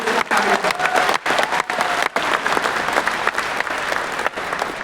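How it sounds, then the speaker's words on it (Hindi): Loud, sustained applause from a large crowd at a stadium event in New Delhi, dense clapping with a few brief dips, continuing steadily throughout. "उनके लिए भी जोरदार तालियां हो जाए"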